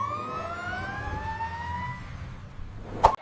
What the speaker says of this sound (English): When you hear the ambulance, give way.